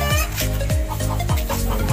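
A hen clucking just after laying an egg, close and loud, with repeated rhythmic squawking clucks at regular intervals.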